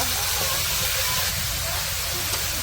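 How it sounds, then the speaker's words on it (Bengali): A loud, even hiss of bitter gourd and potatoes sizzling in hot oil with lightly fried onions, close by and continuous for a couple of seconds. "এখন হচ্ছে করলা আর আলুগুলা দিয়ে দিল,"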